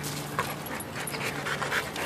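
A playing dog pants rapidly and continuously up close at a dog park, with faint whimpers over busy outdoor background noise.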